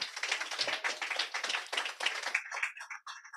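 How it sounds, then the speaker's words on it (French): A church congregation claps and applauds together at close range, a dense, steady patter of hands that thins out and fades near the end, with no talking over it. "On peut applaudir les seigneurs."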